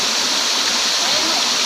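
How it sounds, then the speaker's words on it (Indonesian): Steady broadband rush of a waterfall in the Paino area of Mas Pait, loud and close, continuous hiss and roar with no break and no voices. "maka tibalah saya di air terjun di Mas Pait"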